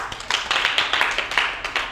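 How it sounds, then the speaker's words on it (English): Schoolchildren in a classroom clap for a classmate after a spelling game, a short burst of quick, close, fairly loud claps from a small group, uneven and slightly ragged in rhythm. "Give her a clap."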